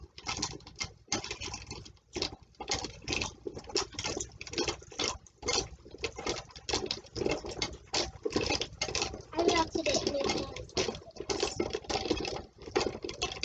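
Water sloshes and patters steadily in a shallow gold pan of wet paydirt, shaken in quick repeated bursts with gritty swishing throughout.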